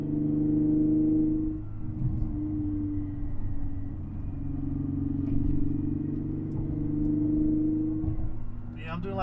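A car engine drones steadily while driving at moderate revs with an oil pressure gauge fitted, a low rumbling hum with slight swells, under quiet talk.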